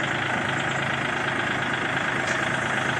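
A second-hand farm tractor engine runs loud and close with a steady, rough, continuous drone that stays at an even pitch throughout.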